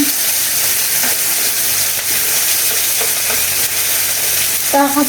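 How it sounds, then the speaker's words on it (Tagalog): Onion sautés in a hot pan for a breakfast egg dish, making a loud, constant close sizzle with occasional stirring scrapes and a short clatter near the end, with no one talking. "Ngayon, ilalagay ko na itong aking sibuyas."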